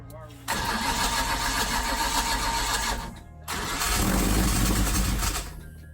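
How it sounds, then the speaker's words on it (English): The faulty starter motor of a Ford Foxbody 302 V8 cranks in two long, loud grinding bursts with a short gap between them, close to the car in a garage. "I know, but the starter's fucking up. Listen to it."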